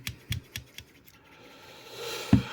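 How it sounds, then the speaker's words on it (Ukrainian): Small scissors on a Nextorch Pioneer MT20 multitool click open and shut several times in quick, crisp snips, followed by soft handling rustle and a louder clack. "Ну і найголовніший інструмент це ось такі ножиці."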